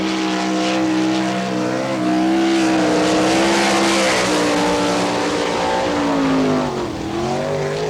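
A sprint car at an NCRA All Stars race in Wichita roars around the track during time trials, its loud engine note rising and falling as it laps, continuous and close with no speech.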